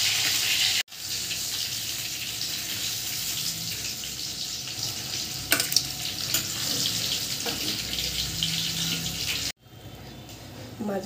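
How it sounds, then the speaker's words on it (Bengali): Hilsa fish fries in hot oil in a kitchen pan, a loud continuous hiss and sizzle with brief sharp crackles, cut by two sudden gaps. "এদিকে মাছটা আমার ভাজা হয়ে গেছে, আমি আস্তে আস্তে মাছটা তুলে নেব।"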